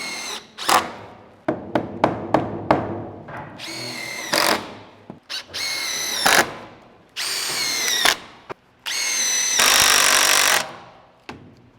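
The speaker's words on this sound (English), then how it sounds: "So now what I'll do is I'll just come in and I'll screw everything together." A power drill drives screws into wooden wall framing for a bedroom in a post-frame barndominium: loud, close whining bursts of varying length, repeated many times with brief pauses between.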